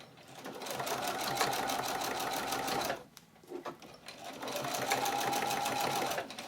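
A sewing machine stitches a small zippered tote bag, running in a fast, steady whir that stops briefly and then starts again, close and clear with no talk over it.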